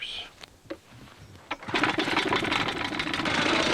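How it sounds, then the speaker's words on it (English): A jackhammer breaks rock at a paleontological dig, starting after a few quiet taps and then running as a loud, continuous rattling hammering close by for the rest of the stretch. "10 years of university, and I still get to use a jackhammer"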